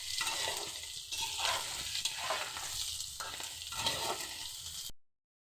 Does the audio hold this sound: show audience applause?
no